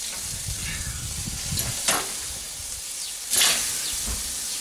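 Boerewors sausage sizzles on a braai grill in a continuous hiss, with a couple of louder swells as the coil is moved and flipped.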